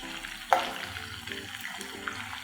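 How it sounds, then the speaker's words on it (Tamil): Tiger prawns fry in a pan over a high flame, giving a steady sizzle with a sharp clatter near the start and scattered small pops and stirring sounds afterward, close and with no talking. "ஹை ஃப்ளேமில் வச்சு 5 நிமிஷம் போல் நல்லா குக் பண்ணி எடுத்துக்கலாம்."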